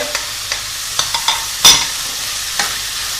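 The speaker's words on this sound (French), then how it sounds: "Je mélange. Voilà, je vais rajouter maintenant mon ail." Bell pepper, onion and garlic frying in a pot, stirred with a utensil: a steady sizzle under scattered scrapes and clicks, with one louder clatter midway, close by and without voices.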